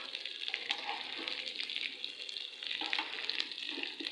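Red chili frying in a pan with eggs and onion gives a steady, close hiss and sizzle with occasional stirring scrapes and no talking.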